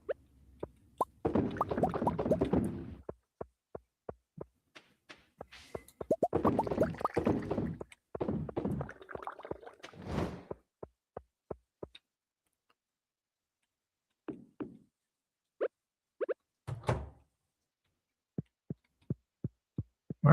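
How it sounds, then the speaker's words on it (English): A coffee maker brews with bursts of gurgling, then slows to sparse, regular plops and ticks separated by quiet gaps as the brew finishes. "It sounds like the coffee is getting done"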